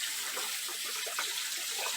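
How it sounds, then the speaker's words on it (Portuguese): Water gushes steadily out of an open hole in an aquaponics grow pipe, a continuous close splashing rush with no pauses and no talk. "Dá pra ver ali como tá vindo bastante água ó, no buraco do perfil"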